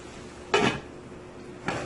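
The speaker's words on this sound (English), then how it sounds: "So I'm going to cover my pot and I'm going to let that continue to cook" A metal lid is set onto a cooking pot of eggplant and potatoes with a bright clank, and a second lighter clink follows about a second later. No one speaks.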